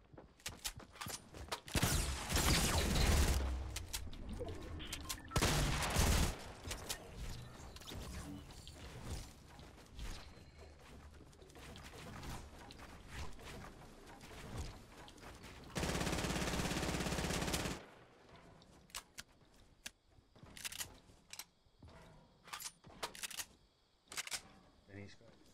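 Video game gunfire, bursts of automatic spraying mixed with single shots, loud and close, recurring throughout with a sustained blast midway, while players talk over it.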